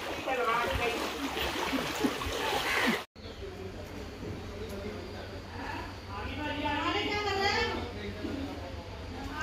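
Heavy floodwater rushes and splashes through a flooded street in Patiala's Old Bishan Nagar, a steady broad wash that continues throughout, with people talking and shouting over it.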